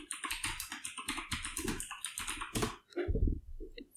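Typing on a computer keyboard during a Google search, with quick bursts of close, crisp key clicks in uneven runs, a short pause, and then a few heavier strokes.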